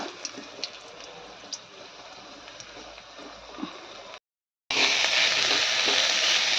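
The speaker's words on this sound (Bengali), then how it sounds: "আলু ভাজা," Potatoes frying in a pan give a steady close sizzle with faint clicks, then after a brief gap the sizzle returns louder and brighter.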